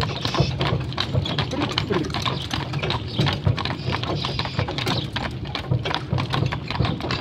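Bucovina stallions clip-clop along at a steady, quick hoof rhythm, moderately close, with faint background voices.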